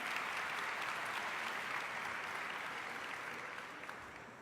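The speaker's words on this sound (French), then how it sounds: "je vous propose de les applaudir très fort" Audience applause at a business talk event, dense and sustained clapping from a large crowd that fades slightly toward the end, with no voices over it.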